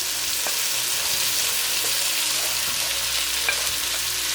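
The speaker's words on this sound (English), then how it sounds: "Now that my vegetables have been sauteing for about 2 minutes, I'm going to add my shrimp in." Shrimp and vegetables sauté in a pan for sweet and sour shrimp, giving a steady, close sizzle of frying that runs continuously with faint stirring clicks and no talking.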